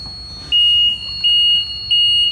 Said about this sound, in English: you've got a strobe light flashing on the control box and an audible tone to alert that person that there's a fall hazard